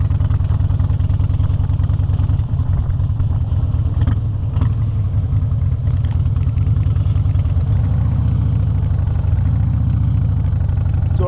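Steady low engine drone from inside a car driving on a morning commute, loud and continuous with faint rattles and clatter, no speech.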